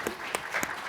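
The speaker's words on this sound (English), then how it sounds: "Wow, round of applause," Brief applause from a panel audience at an International Women's Day equal pay event, a thin patter of claps with a few sharper hits standing out.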